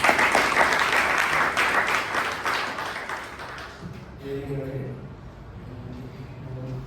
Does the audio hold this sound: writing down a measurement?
no